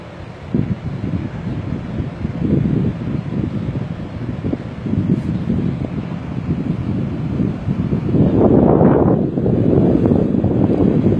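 Steady wind buffeting the microphone outdoors, a continuous low rumbling roar that swells slightly louder near the end, with no one speaking.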